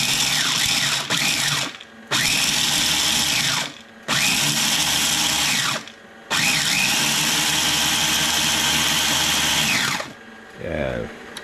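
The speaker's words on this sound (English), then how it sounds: "I'm going to crush them in the food processor" Food processor crushing peanuts in a home kitchen, a loud whirring motor running in four long bursts with short pauses between them, a voice speaking briefly at the very end.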